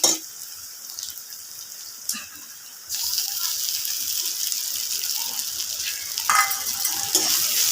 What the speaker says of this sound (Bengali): এটাকে আমি ভালোভাবে নেড়ে চেড়ে ভেজে নেব।